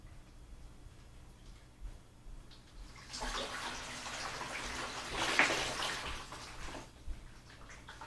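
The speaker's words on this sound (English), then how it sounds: "we're going to pour the fish into the net through the bucket" Water with live fish is poured from a bag through a net into an aquarium bucket, a soft, fairly faint splashing flow lasting several seconds, with a few light ticks and knocks.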